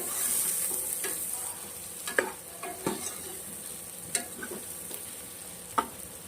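Chopped ridge gourd sizzles in a pan with mustard seeds and curry leaves, a soft steady fry broken by several sharp scrapes and clacks of a spoon stirring against the pan.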